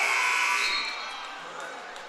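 Scoreboard buzzer at a high school wrestling match, a loud harsh sustained blast that fades over about two seconds while crowd noise and voices carry underneath.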